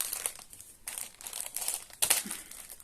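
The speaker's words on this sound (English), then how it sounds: "Apologise about the crinkle." Cross-stitch fabric crinkles and rustles in several short bursts close to the microphone, dry crackling handling noises with quiet gaps between.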